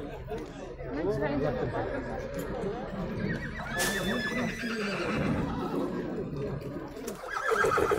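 A horse whinnies at a busy horse market, its neigh rising out of a steady hubbub of overlapping voices, with occasional hoof clops and bangs nearby.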